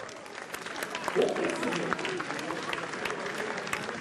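Racecourse crowd applauds jockey Christophe Lemaire after his winning return aboard a Japanese runner in the 2025 Prix Guillaume d'Ornano, a moderate, steady patter of clapping heard at a distance beneath a commentator's voice.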